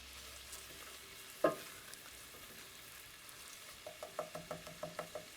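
Apples cooking in a pan on moderate heat, with a soft low sizzle under one sharp knock of a utensil and then a quick run of rhythmic stirring taps against the pan, close but quiet.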